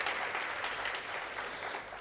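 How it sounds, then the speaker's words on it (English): A seated crowd at a university research week opening ceremony applauds in a dense, steady round of clapping that carries through the whole moment. "Let's give a good round of applause to our youngsters too."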